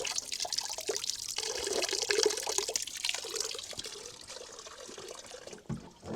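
Spring water at Mont Sainte-Odile in Alsace, said to have gushed from rock struck by Saint Odile, runs and splashes steadily, a continuous close trickle and pour that eases toward the end.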